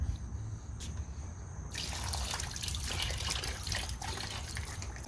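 Washer fluid drains from a Volvo XC60 washer fluid reservoir into a pan, a faint trickle that becomes a steady splashing pour after a couple of seconds and continues nearby without talk.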